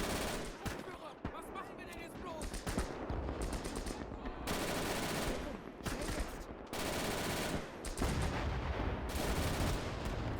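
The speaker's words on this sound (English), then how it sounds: "Here's a nice look at the MG42 with its long bursts." MG42 machine guns fire long, rapid bursts in a Gates of Hell late-war trench battle, several loud sustained volleys in quick succession, with brief gaps and overlapping gunfire across the whole stretch.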